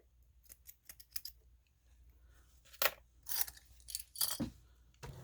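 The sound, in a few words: scissors trimming sewing threads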